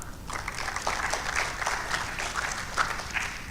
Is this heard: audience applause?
yes